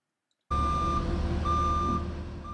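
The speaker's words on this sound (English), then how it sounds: "You can see here the forklift is coming with our body on it." Forklift reversing at a factory where Mustang bodies are made. A loud, steady alarm beeps over a low engine rumble, starting abruptly after a moment of silence and repeating at an even pace.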